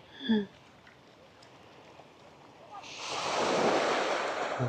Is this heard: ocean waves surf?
yes